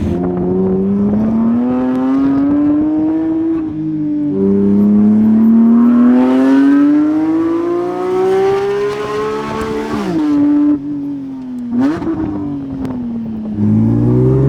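A Porsche 992 GT3 RS driven hard on a mountain road, its engine revving high and loud through repeated rising pitch sweeps, with sharp drops at gear changes and brief pops, close and continuous.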